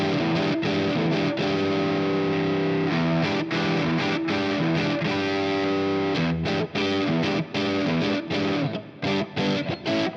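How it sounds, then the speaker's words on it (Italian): Ibanez AZ electric guitar with the neck humbucker in Power Tap mode, loud sustained distorted chords with a chorus-like shimmer, cut by short rhythmic stops and choppy muted gaps toward the end; no talking. "nell'ultima posizione con l'alter switch attivo abbiamo l'humbucker al manico in modalità Power Tap"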